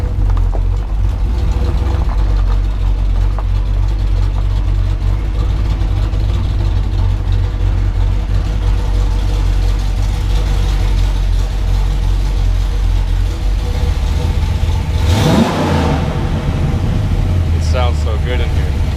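A Chevrolet Camaro engine idles inside a shop with a steady, deep, loud rumble and one brief rev near the end, while someone talks over it.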